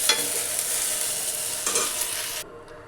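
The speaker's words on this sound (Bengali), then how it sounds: "এখন এটাকে আরেকটু ভেজে নিয়ে তারপর নামিয়ে নেব" Okra coated with gram flour sizzles steadily in a hot pan, a continuous close crackling hiss with stirring scrapes, ending abruptly into near silence.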